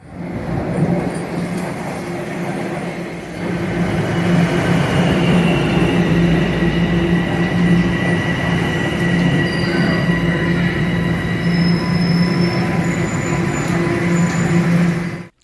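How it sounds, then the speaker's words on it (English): A Toronto TTC Line 1 subway train rumbles steadily with loud, continuous rolling noise, a low hum underneath and thin high-pitched wheel squeals appearing toward the end. "I was very excited to get onto the Line 1 train"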